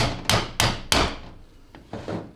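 Several sharp hammer taps on a 6L80 transmission drum near its lugs, three quick strikes followed by a couple of softer ones, close and alone.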